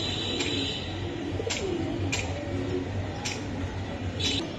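Club racing pigeons cooing at close range, a low continuous murmur of coos with a few brief clicks on top, no voices.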